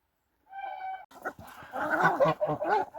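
Geese being fed honk and gabble at close range, starting with a single drawn-out call followed by a noisy overlapping chorus of several birds.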